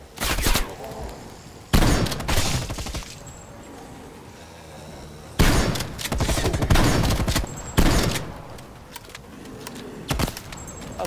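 Shotgun fire in Call of Duty: Black Ops Cold War, with several loud blasts spaced a few seconds apart, each followed by a short tail of reverb and game noise.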